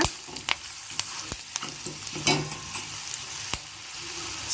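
Green chillies and curry leaves crackle and sizzle in hot oil at close range, with sharp pops and intermittent scraping stirs. No voices.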